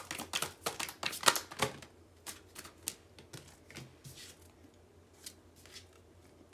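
Tarot cards being shuffled by hand in quick crisp bursts of riffling and slapping, close and fairly soft, busier at first and then thinning into scattered flicks with no talk.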